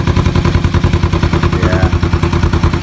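A bobber motorcycle engine idles loud and close, its rapid, lumpy, steady firing pulses running throughout.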